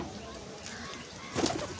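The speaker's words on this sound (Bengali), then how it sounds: "প্রত্যেকটা পায়রা জল খেতে এসছে, প্রত্যেকটা পায়রা।" Pigeons gathering to drink from freshly poured water give soft, low cooing against a quiet background, with a brief louder flurry near the end.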